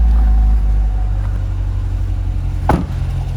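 2019 Corvette Stingray Coupe 1LT with a seven-speed manual, its engine idling steadily with a deep low rumble heard from outside the car, with a brief sharp knock partway through.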